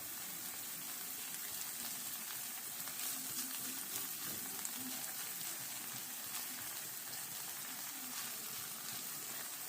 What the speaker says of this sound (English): we're going to get that cheese frying up